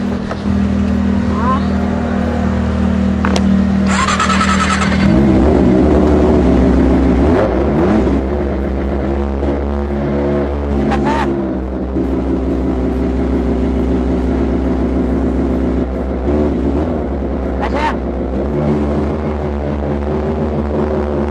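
Riding along on a motorcycle, with a steady loud engine drone and gear changes running throughout, wind noise over it, and people talking briefly.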